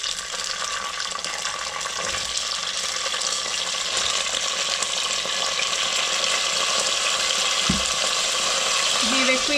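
Potato pieces dropped into hot oil already infused with garlic and red chilies in a pan for pyaj saag, giving a continuous bright sizzle and crackle with small stirring clatters underneath.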